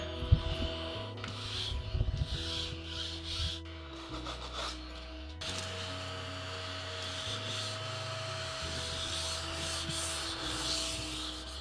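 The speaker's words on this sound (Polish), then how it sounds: "jakbym miał ocenić ten odkurzacz biurkowy, to koncept świetny" A small desk vacuum cleaner runs with a steady low motor hum and whirring tones that shift in pitch, over scraping and rubbing noises as it is moved across a dusty surface.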